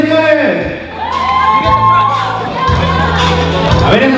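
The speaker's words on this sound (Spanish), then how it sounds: "¡Que se oiga ese grito," Birthday party crowd shouting, whooping and cheering for a celebrant, with loud children's and adults' voices layered over steady background music, sustained throughout and close by.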